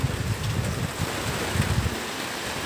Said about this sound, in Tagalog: medyo may hangin na nga dito sa amin eh